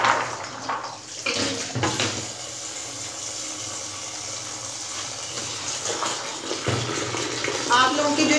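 Water swishes and sloshes steadily as chickpeas are rinsed, a continuous watery wash with a voice talking over it.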